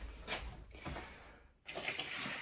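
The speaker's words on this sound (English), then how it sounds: "Dump that water into that container for now" Water poured out of a reptile's water dish into a container during python egg care: a splashing, gurgling pour that pauses briefly and then resumes as a steadier stream, close by, with no talk.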